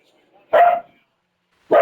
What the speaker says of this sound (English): What is he barking at?